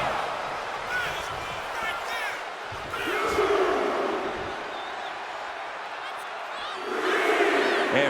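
Arena crowd noise from the WWE 2K25 wrestling video game, a steady roar with swells of cheering rising around three seconds and again near seven, carried under a commentator's voice throughout.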